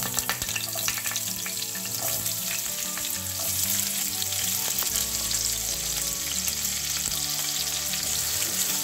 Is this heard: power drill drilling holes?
no